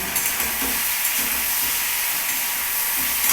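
Steady, loud sizzling of spices frying in a hot pan, a dense crackling hiss that continues without pause.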